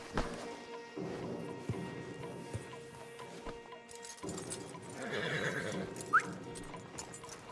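Horses whinny and clip-clop in the Red Dead Redemption 2 video game, with hooves stepping nearby and a sharp neigh near the end.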